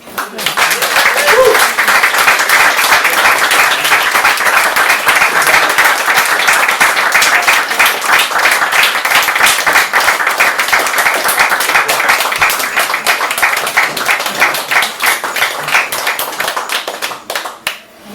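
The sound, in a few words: audience round of applause at open mic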